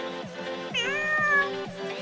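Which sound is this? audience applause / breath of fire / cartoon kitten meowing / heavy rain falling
cartoon kitten meowing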